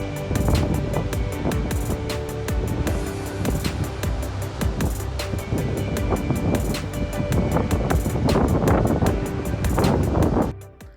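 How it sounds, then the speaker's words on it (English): Strong wind in Iceland buffets the microphone in heavy, irregular gusts and rumbles, loud and continuous, dropping off abruptly at the end. "It was so windy, it was blowing the Osmo's camera around."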